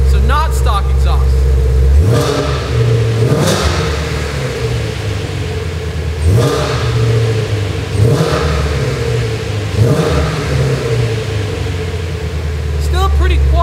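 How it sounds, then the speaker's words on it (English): A Ford Mustang GT350 with a Corsa Double Helixx X-pipe exhaust, valves closed, blips its throttle in several sharp revs spaced a couple of seconds apart over a steady idle rumble, fairly loud and close. "We're going to give her a few cracks in the throttle, and this is valve closed."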